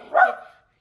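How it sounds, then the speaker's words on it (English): A single short dog bark sounds close and fairly loud indoors, a quick yelping woof that fades within half a second, alone without talk. "Oh, excuse my dog."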